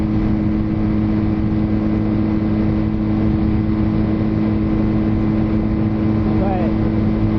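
A Kawasaki KZ440 motorcycle engine roars at wide open throttle while riding at speed, a steady droning hum with strong low harmonics and rushing wind noise throughout, held constant and loud.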